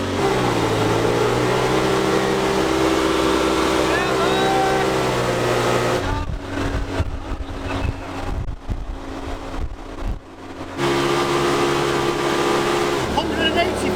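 A loud off-road buggy engine drones steadily while driving, with wind buffeting the microphone and a rougher, fluttering stretch midway before the engine note returns.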